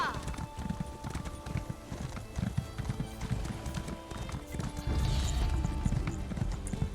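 In the Elder Scrolls Online game world, horse hooves clip-clop in a quick steady rhythm over a soft ambient backdrop, with a brief whinny and someone speaking over it.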